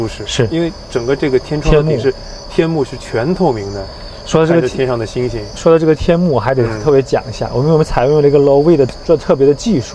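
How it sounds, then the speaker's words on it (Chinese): A Dongfeng eπ car's cabin sound system plays a cricket-chirping nature track, a thin, continuous high chirp running beneath people talking. "就是虫鸣的声音"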